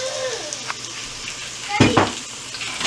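Sliced onion hits hot oil with ginger in a pan, a steady close sizzle that swells and crackles loudly with brief clattering bursts as the onion goes in.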